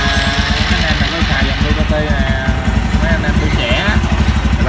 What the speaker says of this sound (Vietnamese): Cái tiếng máy nó cứng lắm